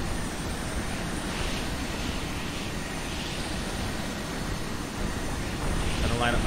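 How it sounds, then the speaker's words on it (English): Aircraft engine droning steadily in a combat flight video game, a loud continuous roar with slight swells near the end. "I gotta remember how fast this aircraft is."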